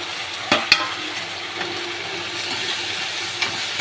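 Chopped ginger fries in oil in a pan, a steady close sizzle with two sharp utensil clinks near the start and a faint scrape later.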